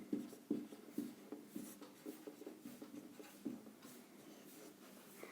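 Pen writing on paper during a Class 10 maths lesson on trigonometry, a soft scratchy stroking with short pauses, close and quiet, with no talking.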